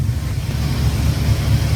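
A Ford 5.0L V8 idles at about 1,000 RPM, making a loud, steady low rumble close to the microphone with no talking.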